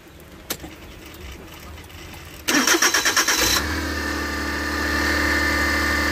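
A car engine cranks and catches, rattles briefly, then settles into a steady running hum with a high whine and faint ticking from the alternator tensioner on top.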